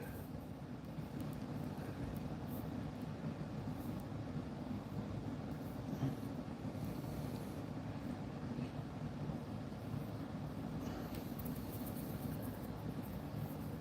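A train rumbles past steadily, a low continuous roar with wind buffeting the microphone throughout, loud and close for the whole stretch with no talking.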